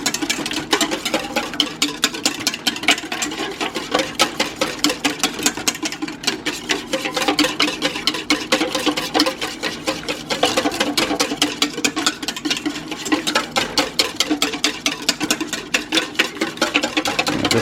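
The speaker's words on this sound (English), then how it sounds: "we're just sort of rapidly whisking this over the steaming water as it heats up" Eggs whisked rapidly in a bowl over steaming water while making a drink, a dense, relentless metallic clicking and scraping of the whisk against the bowl, close and steady throughout with no talk.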